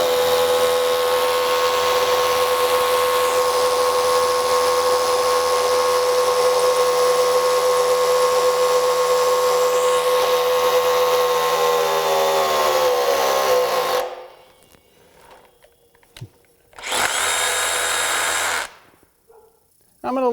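A DEWALT Atomic 20V compact brushless SDS Plus rotary hammer (DCH172D2) on a 2 amp hour battery drives a 3/8 inch bit, a loud continuous hammering drone for about fourteen seconds, then brief pauses and a short final burst.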